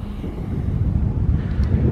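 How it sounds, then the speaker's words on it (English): Strong wind buffets the microphone on the Algarve coast of Portugal, a loud, rumbling low roar that gusts and swells continuously with no voices. "A bit windy here"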